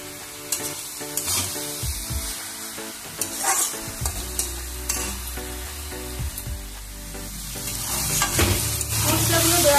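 Spices fry and sizzle in a pan for lau ghonto, a bottle gourd dish cooked with bori lentil dumplings. A steady close sizzle runs throughout, with stirring clinks and scrapes that grow louder toward the end.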